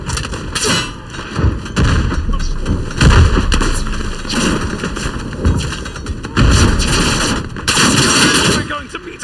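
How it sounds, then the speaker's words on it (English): Loud artillery and rifle fire in a WW1 Gallipoli battle video game, dense booms, thuds and rapid gunshots in continuous bursts, with shouting voices mixed in. "Shoot some artillery."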